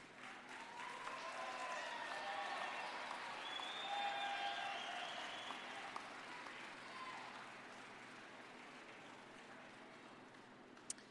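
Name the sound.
graduates applauding parents, family and friends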